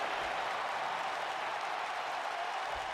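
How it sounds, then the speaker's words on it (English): A wrestling arena crowd in the WWE 2K19 video game roars and applauds in a dense, continuous wash of noise, steady and fairly loud throughout. "The crowd is losing their minds right now."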